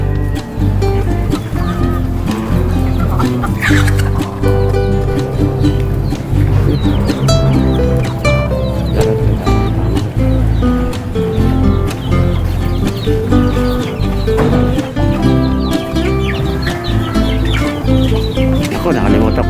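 Native Darag chickens clucking and calling on a farm, with a continuous dense mix of fowl noises, loud and close, and occasional talk underneath.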